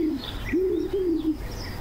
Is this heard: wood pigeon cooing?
yes